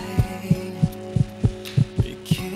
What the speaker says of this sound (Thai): อัตราการเต้นของหัวใจจะสูงขึ้น2เท่าจากเดิม